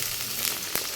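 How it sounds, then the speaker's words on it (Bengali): Ginger garlic paste sizzling and frying in a pan, a steady close hiss with a faint stirring scrape, no voices. "আদা রসুনটা একটু ভাজা ভাজা হোক।"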